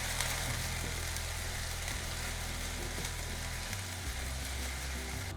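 Ginger garlic paste sautéing in a hot pan, a steady continuous sizzle and frying crackle that holds at an even loudness throughout, with no voices.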